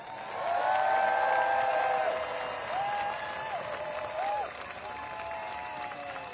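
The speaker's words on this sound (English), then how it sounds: "Please give a warm round of applause for Jessica Denson." Steady crowd applause at an outdoor protest rally, moderately loud and sustained, with a few voices calling out over the clapping.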